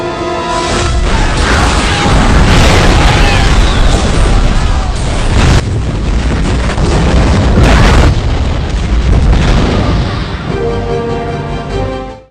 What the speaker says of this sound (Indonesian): Lee pun menembakkan flare untuk meledakkan dermaga tersebut